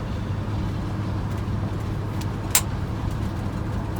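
The engine of a Chevrolet C10 pickup keeps running steadily after the switch to a replacement fuel tank, making a low, continuous rumble with one brief sharp click partway through.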